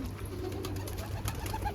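Pigeons in a loft being fed greens coo softly and steadily, close by, with faint rustling and movement underneath and no talking.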